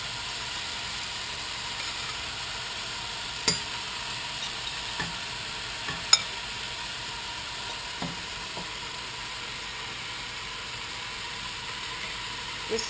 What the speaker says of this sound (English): And let these sear for a little bit longer.